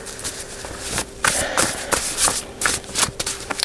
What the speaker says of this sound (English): I want to pull a few of these cards.